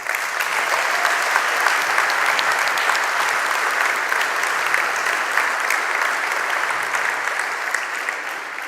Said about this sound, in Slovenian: Predlagam še en aplavz.